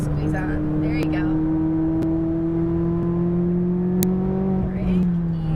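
A McLaren 570S on a race track pulls hard under throttle, its steady engine drone climbing slightly in pitch as it accelerates, with a driving instructor's voice heard over it.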